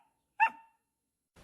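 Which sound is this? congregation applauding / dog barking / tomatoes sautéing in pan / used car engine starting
dog barking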